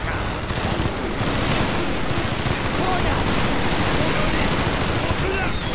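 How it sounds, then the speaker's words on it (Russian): Sustained, loud automatic machine gun fire in Call of Duty Black Ops, dense rapid bursts rattling almost continuously with voices talking over the shooting. "Старый хороший пулемет."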